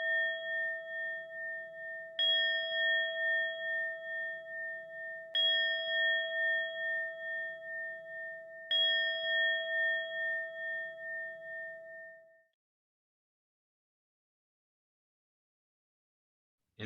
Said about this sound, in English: Fourth bell.